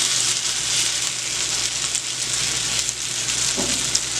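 French toast frying in a pan on the stove, a steady close sizzle and crackle with faint clinks and no talk.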